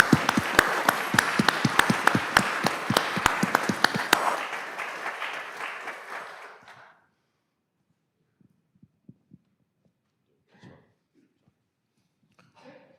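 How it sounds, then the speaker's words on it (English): A roomful of people at a village committee meeting breaks into applause, dense claps for several seconds that thin out and fade to silence, followed by a few faint scattered sounds. "how about a round of applause?"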